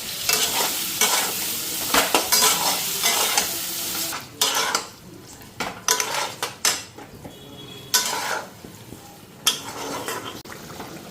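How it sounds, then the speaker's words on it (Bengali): Fish fry in a pan with black cumin, hissing and sizzling loudly up close, broken by repeated bursts of scraping and stirring against the pan. "কালো জিরা সম্বাদ দিয়ে মাছগুলি ভাজা নিচ্ছি"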